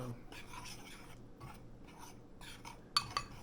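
Chicken strips being stirred with seasoning and parsley flakes in a bowl, giving soft scraping and rubbing strokes at low level, with a couple of sharper utensil clinks near the end.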